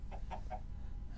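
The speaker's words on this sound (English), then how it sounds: "I got some chickens." Three quick, clipped clucks from chickens in Minecraft, evenly spaced within about half a second, fairly faint over a low background hum, then quiet.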